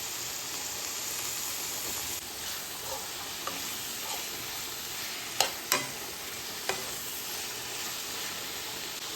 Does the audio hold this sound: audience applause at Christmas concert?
no